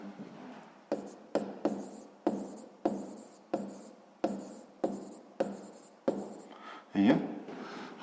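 Pen scratching on paper while working a sixth-grade math exercise, with about a dozen evenly spaced, sharp strokes in a steady rhythm, close to the microphone, followed by a slightly longer scribble at the end.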